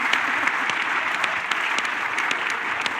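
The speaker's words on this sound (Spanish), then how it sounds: "Un aplauso para el moderador que está tomando aire." Audience at an Ecuadorian political forum applauding the moderator, a steady dense patter of many hands clapping at a moderate distance with no talk over it.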